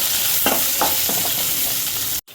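Chana dal, dried red chillies and onions frying in oil for majjiga pulusu, a loud continuous sizzle with a few scraping stirs of a spoon before it cuts off abruptly.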